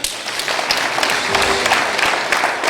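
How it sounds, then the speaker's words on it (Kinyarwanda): An audience at a youth anti-drug awareness event gives steady, sustained applause, a dense patter of many hands clapping together at close range. "turashimira n'amashyi menshi"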